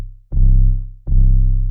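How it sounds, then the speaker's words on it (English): An 808 bass sample in FL Studio with a lengthened attack, so each note swells in softly instead of punching. Two long, deep, booming notes play alone, each fading in gradually and then sustaining. "increasing the attack of your 808"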